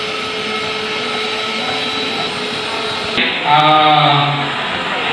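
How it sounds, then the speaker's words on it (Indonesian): An electric mixer whirs steadily through custard batter in a baking class, a continuous close motor hum that shifts pitch and grows slightly louder near the end. "Kita mixer dengan bakerland custard."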